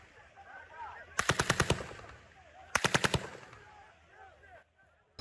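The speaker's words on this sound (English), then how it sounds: "they could identify live ammunition, including machine gunfire, coming from the sites" Live machine-gun fire at distribution sites where Palestinians gather comes in two rapid bursts of about six shots each, sharp and fairly loud over faint background noise.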